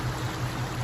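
Fast floodwater streams across a road near Madha in the Oman enclave of the UAE, making a steady, loud, close rushing wash with no talk.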